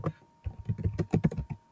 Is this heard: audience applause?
no